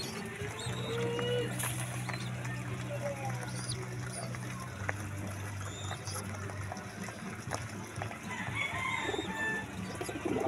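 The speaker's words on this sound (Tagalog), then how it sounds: "Pato namin guys." Farmyard ducks call among other fowl in a moderately quiet outdoor setting, scattered bird cries mixing with faint voices in the background.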